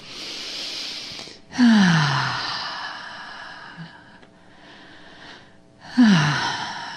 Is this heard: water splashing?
no